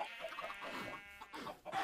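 In the video game Minecraft, a chicken gives short, close clucks in a quick burst lasting under two seconds.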